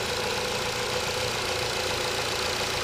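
A 2015 Ford Fusion's 2.5-liter engine runs steadily at a smooth idle, a constant close-up hum with no other sounds over it.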